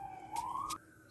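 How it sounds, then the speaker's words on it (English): An emergency vehicle siren wails outside, a single brief rising sweep heard faint and distant through the walls of a kitchen. "So sorry for the sirens, y'all."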